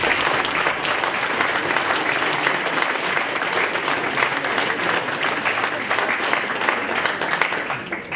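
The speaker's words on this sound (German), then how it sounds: "wenn Sie einmal heute klatschen würden, dann so laut, dass die da oben bei der Feuerwehr das hören" Loud, sustained applause from a town-meeting audience honoring the Korbach fire brigade, dense clapping close by that holds steady throughout with a few voices mixed in.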